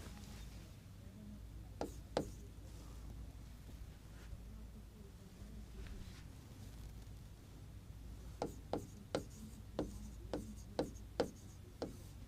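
Pen or marker writing the name Gibson Desert, a series of quick, crisp taps and short strokes, faint and close, clustered in a rapid run near the end.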